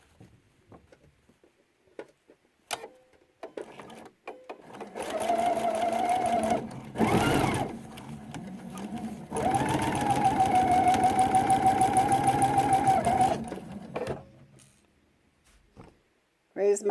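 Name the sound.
sewing machine stitching quilt binding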